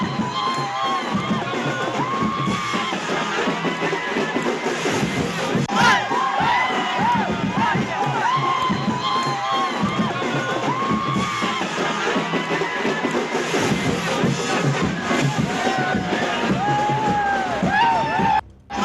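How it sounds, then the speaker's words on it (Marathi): A crowd celebrating an election win at a victory procession in Uran, Maharashtra, with continuous loud cheering, shouting and whoops from many voices close by, sustained for nearly twenty seconds. "विजयी उमेदवार यांचा जल्लोष या ठिकाणी सुरू आहे।"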